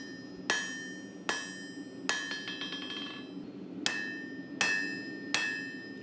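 A hand hammer strikes hot mosaic Damascus steel during bowie knife forging, six sharp ringing blows at a slow, uneven pace, one followed by quick rebound taps, each leaving a bright metallic ring that fades between strikes.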